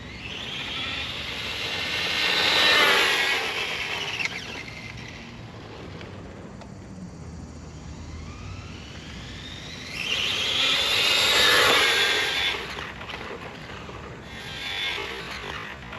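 A Traxxas 4-tec 2.0 VXL RC car running on 2S with high-speed gearing makes two loud, high-pitched whining passes with rising and falling pitch, separated by a quieter, steadier drone of the motor farther off.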